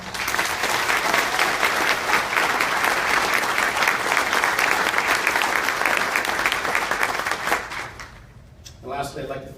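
Sustained applause from an audience at a police awards ceremony honoring the officer, detective and civilian of the year, dense and steady for most of the stretch before fading into a brief voice near the end.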